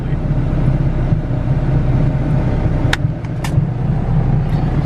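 Turbocharged GSR engine in an EF sedan idling on a dyno, a steady, loud low rumble with a constant even pulse, broken by a few brief sharp clicks.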